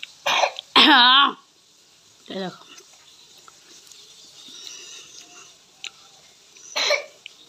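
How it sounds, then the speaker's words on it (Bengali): A baby coughs a few times in short bursts, one harsher and strained, in a quiet indoor room with a brief spoken word between the coughs. "ও বিশাল কাশি হয়ে গেছে বেবিটার।"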